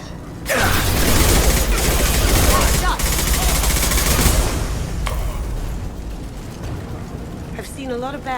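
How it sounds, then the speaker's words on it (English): Blue Suns and Vorcha gunfire rattles in Mass Effect 2, a loud sustained barrage of rapid shots and booms that slowly thins, with a whining electronic warble at the very end. "Blue Suns and Vorcha shooting anything that moves."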